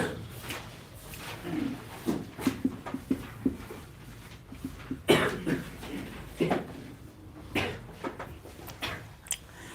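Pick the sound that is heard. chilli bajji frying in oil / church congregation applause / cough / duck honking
cough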